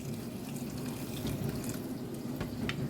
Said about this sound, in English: I'm going to pop in just enough water